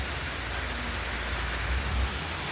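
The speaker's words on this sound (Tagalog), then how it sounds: "Grabe yung ulan." Heavy rain pours steadily, a dense, loud hiss filling the whole stretch without a break, with a faint low rumble underneath and no voices.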